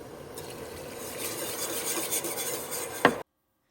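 A spoon stirring bourbon into a cooking chewing tobacco mixture in a pot, a steady, soft scraping and swishing with a sharper clink near the end before it stops abruptly.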